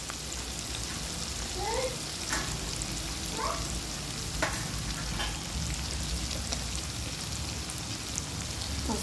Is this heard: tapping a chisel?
no